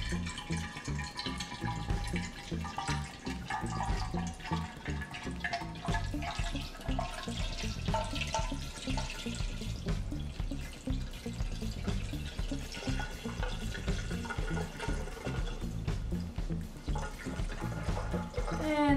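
Wine pouring from a tilted bottle into a decanter, a continuous liquid gurgle and splash running steadily for the whole stretch, close and clear.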